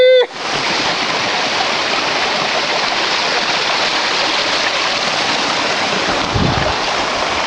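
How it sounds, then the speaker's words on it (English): A waterfall at Big South Fork roars as a loud, continuous broadband rush of falling water, close and steady for several seconds after a brief voice at the very start. "If you can hear me over the waterfall."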